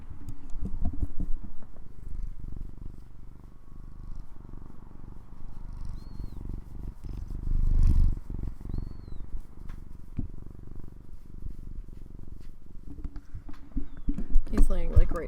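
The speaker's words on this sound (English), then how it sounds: "Can you guys hear him purring?" A cat lies right beside a microphone purring, a close, low rumbling that continues steadily under a person talking over game sounds.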